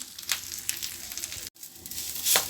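Moringa leaves sizzle and crackle steadily as they fry in a pan, a close, continuous hiss with small pops throughout and a brief gap near the middle.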